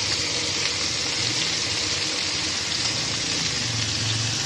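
Potatoes and peas for a vegetarian aloo sabji are stir-fried in a pan, giving a steady, close hiss of sizzling oil that runs evenly without pause.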